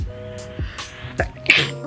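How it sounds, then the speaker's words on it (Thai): A woman sneezes once, a sharp close burst near the end after a couple of short breathy intakes, indoors and otherwise quiet. "ขอโทษค่ะทำไมจาม"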